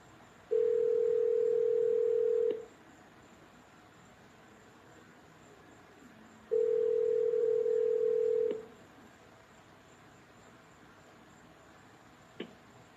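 Before a phone call, two steady tones sound on a telephone line, each lasting about two seconds with a gap of a few seconds between, over faint background hiss.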